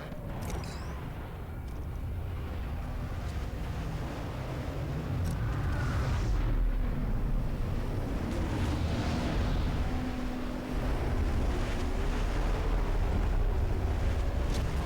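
A dropship arrives in Apex Legends as a sustained, loud, broad roaring rumble like heavy engines and wind, swelling steadily over about fifteen seconds with faint higher whooshes.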